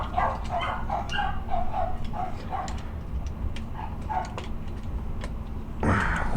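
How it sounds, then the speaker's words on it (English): Several dogs barking in the background, a string of sharp, fairly distant barks and yips spread unevenly across the clip, with a louder, nearer burst right at the end. "These fucking dogs."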